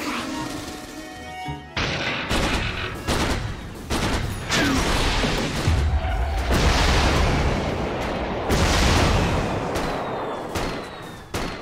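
Battle effects from the video game Dota 2 as a middle tower comes under attack: dense, loud, continuous layered impacts, blasts and crashes with rapid gunfire-like bursts throughout.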